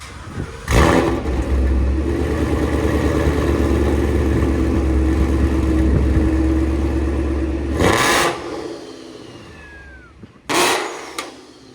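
A supercharged Ford Mustang GT with a 5.0L V8, long-tube headers and a Corsa cat-back exhaust, idling with a deep steady rumble close to the mic, broken by short sharp revving bursts near the start, middle and end.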